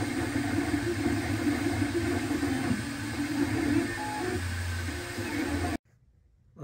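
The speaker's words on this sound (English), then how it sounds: "3D printer is going to come around just like that" A 3D printer whirs and hums as its stepper motors buzz at shifting pitches while printing a replacement grill part for a Mercedes-Benz Sprinter Winnebago, close and continuous before cutting out abruptly.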